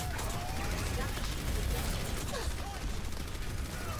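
Constant gunfire from a shooter video game, a steady wash of rapid shots and battle noise lasting throughout at moderate level with no clear pauses, with voices partly mixed in.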